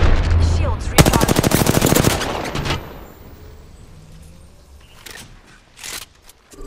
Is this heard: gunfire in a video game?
yes